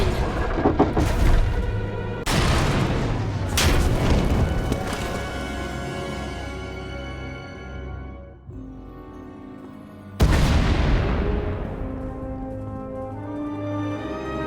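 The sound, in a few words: explosions in the Star Wars: The Old Republic video game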